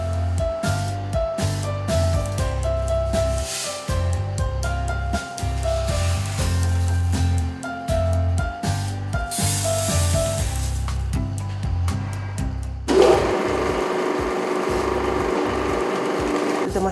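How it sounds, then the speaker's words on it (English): A fixed oil extruder pressing oil from nuts and seeds such as peanuts, heard as a steady loud mechanical clatter of ratcheting gears, with a harsher, noisier grinding surge taking over near the end. "The machines that we have is a fixed oil extruder. It squeezes the oil from the nuts and the seeds."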